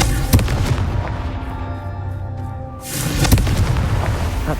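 A fire spell explodes in Hogwarts Legacy combat, loud booming blasts with crackling bursts over a dense game soundtrack, dipping briefly before another heavy impact.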